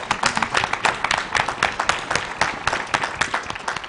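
Audience at an Aspen Institute children's forum applauds its panelists with loud, close, dense clapping that carries on steadily, with individual sharp claps standing out across the whole stretch.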